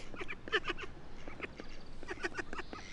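Mother duck quacking repeatedly in a busy park, a run of short, moderately loud calls spread across the whole stretch amid steady outdoor background noise.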